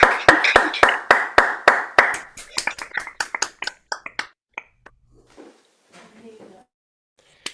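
An online audience claps after a song at a book club performance: a close burst of clapping that thins out over a few seconds and fades into near silence.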